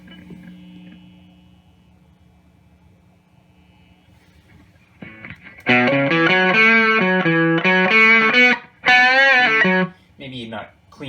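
An electric guitar runs through a Varmint distortion pedal set to lower gain. A faint hum comes first, then loud, sustained overdriven chords ring out in several bursts with short breaks between them.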